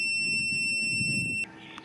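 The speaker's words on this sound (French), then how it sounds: "Et là ça bip, le convertisseur bip" A Banggood 2300 W 12/24 V power inverter, running from a 12 V 100 Ah LiFePO4 battery under a load of about 1200 W, sounds a shrill, steady electronic overload warning beep. The single continuous tone stops abruptly after about a second and a half.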